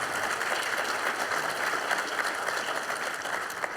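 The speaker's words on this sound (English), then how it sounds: "Please, a round of applause." An audience applauds a panel introduction at a public forum on Ontario and trade tariffs, a steady, even wash of many hands clapping at moderate distance, with no talk over it.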